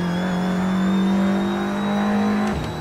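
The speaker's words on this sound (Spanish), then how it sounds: "otra vez accionamos el turbo" An Audi TT Cup race car in Assetto Corsa at Montmeló holds a loud, steady engine drone under turbo boost that then drops off abruptly near the end, heard close and alone.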